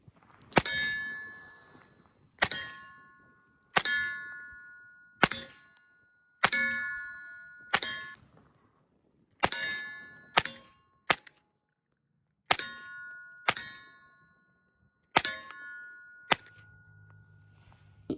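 Suppressed gunfire from a Huxwrx Flow 9K Ti suppressor on a Flux 320 pistol, about a dozen sharp shots with a ringing metallic clang, spaced one to two seconds apart at close range.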